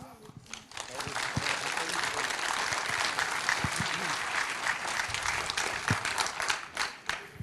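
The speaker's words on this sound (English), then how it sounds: "we can try this for now by just clapping loud" Loud audience clapping at a lightning talks session of a hacker congress, building quickly into a sustained, dense round of applause with some crowd noise, then thinning toward the end.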